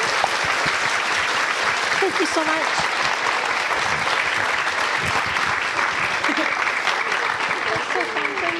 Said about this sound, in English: Can we have a round of applause for Carissa and Marie?